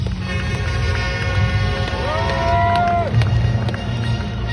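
A monster truck engine runs at a show, a steady throbbing rumble with a loud mechanical squeal rising and falling over it, while a crowd murmurs in the background.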